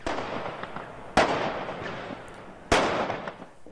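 Fireworks burst during yellow vest street riots, two sharp loud bangs a second and a half apart over a constant hiss of crowd and street noise.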